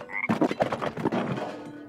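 A frog in the LEGO Star Wars: The Phantom Menace video game croaks in a rapid run of throaty, bubbly calls, close and fairly loud, following a brief tonal game sound.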